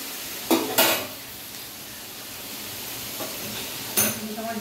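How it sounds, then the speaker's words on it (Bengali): Mixed vegetables frying for a Bengali khichdi, giving a steady low sizzle in the pan with brief louder bursts of stirring and a spoon scraping the pan. "এবার এগুলোকে আমি লাল লাল করে ভাজব।"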